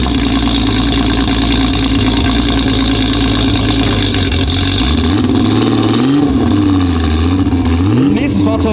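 1063 hp VW Golf Mk3 race car engine, loud rough idling with deep rumble, then rising and falling revs near the end, with voices talking over it.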